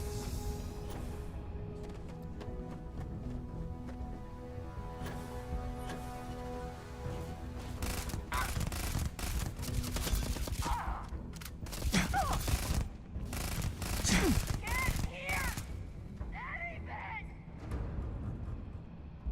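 Gunfire in the video game Starfield, with a dense burst of sharp shots and impacts crowding the middle of the stretch over a steady game background, and someone talking at points.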